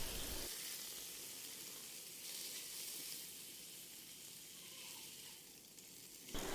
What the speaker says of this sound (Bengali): মাছটাকেও কিছুক্ষণ ভেজে নিয়ে